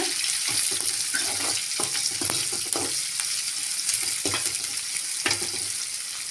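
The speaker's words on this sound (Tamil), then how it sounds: "கூடவே ஒரு கொத்து கருவேப்பிலை சேர்த்துக்கலாம் நல்லா வதக்கி விட்டுக்கோங்க" Onion and curry leaves sauté in a hot pan for a Tamil cabbage and beans stir-fry, giving a steady close sizzle with scattered scrapes and stirring knocks throughout, and no talk.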